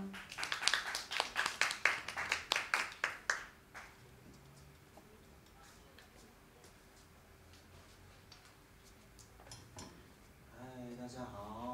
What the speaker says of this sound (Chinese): 掌声欢迎地华